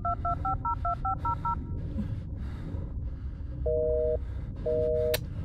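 Phone keypad tones beep through a rapid dialed number in the Blair Witch horror game, followed by two long busy-signal tones; clear over a low background rumble, no talk.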